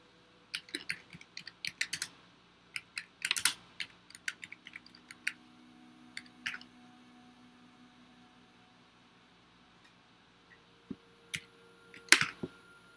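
Keys on a computer keyboard clatter in irregular bursts of quick taps, close and crisp, with a long quiet gap before a final flurry over faint background hum.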